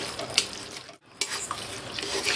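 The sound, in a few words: stirring jaggery syrup with dates in a pan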